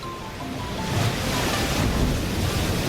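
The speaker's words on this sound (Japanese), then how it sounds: "いきなり海が真っ二つに割れやがったぞ。" Crashing waves as the sea suddenly splits in two in a drama CD scene: a loud, continuous roar of surf and rushing wind that swells slightly and holds steady, with no voices.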